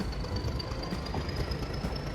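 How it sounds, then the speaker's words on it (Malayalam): The Nilgiri toy train pulls out of Coonoor railway station on its mountain line, a steady, continuous rumble of wheels and carriages with a thin high whine running through it, close and unbroken, with no voices. "കൂനൂർ റെയിൽവേ സ്റ്റേഷനിൽ നിന്ന് നമ്മുടെ ടോയ് ട്രെയിൻ പതുക്കെ യാത്ര ആരംഭിച്ചിരിക്കുകയാണ്."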